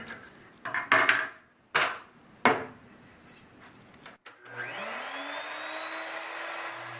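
A handheld router cuts a truss rod channel into electric guitar neck wood, first a few sharp bursts and knocks, then a sustained whining spin-up that settles into a steady, loud motor drone.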